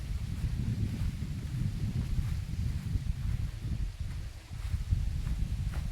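Steady, heavy wind roaring and buffeting the microphone outdoors on a farm in Gumaca, Quezon, a low rumbling gust that barely lets up for the whole stretch.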